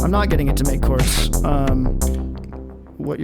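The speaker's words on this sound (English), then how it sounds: "What you're hearing is the delay, which is an echo effect." Dense electronic tones from an Elektron Digitakt run through a delay echo effect, notes repeating and layering over each other with a rich, sustained texture that thins out before a new burst near the end.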